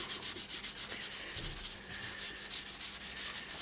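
Finish being scrubbed by hand into the grain of a sycamore bowl with yew inlays on a running lathe, a soft, close rubbing swish pulsing in quick, even strokes, quiet and without talk.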